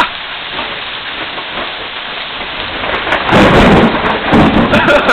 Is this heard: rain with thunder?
yes